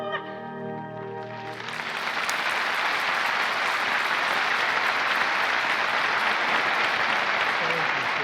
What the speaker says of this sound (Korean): 박수를 엄청 크게 치시네요